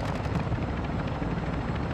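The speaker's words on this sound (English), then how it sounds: "I'm looking for the chopper" A helicopter hovers during an exfil firefight in a video game. The dense rotor roar throbs steadily and fairly close, with no talking over it.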